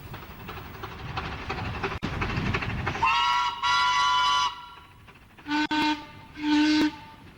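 Two narrow-gauge steam locomotives run as a double header on the Cleethorpes Coast Light Railway. A chuffing, rumbling run is cut by several loud, sustained steam whistle blasts, first long ones and then two shorter toots.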